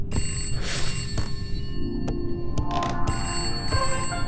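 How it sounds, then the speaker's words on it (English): A telephone in a video game rings with a bright, metallic bell tone, sounding in repeated bursts over a steady background hum, with no voices present. "I'm answering the phone."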